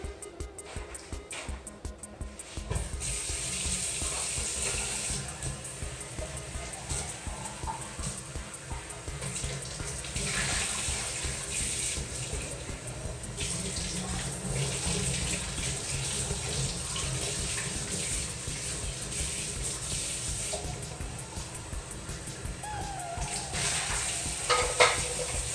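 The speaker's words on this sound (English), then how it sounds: "So now I need to go rinse this cup." A cup is rinsed under a running kitchen tap, giving a soft, continuous splash and hiss of water that shifts as the cup moves through the stream, faint and steady with a few light knocks.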